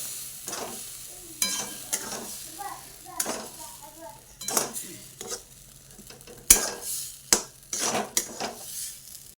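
A spoon scrapes and stirs pineapple sheera in a pan, giving irregular close scraping strokes and metallic clinks with a soft sizzle underneath, while someone speaks intermittently.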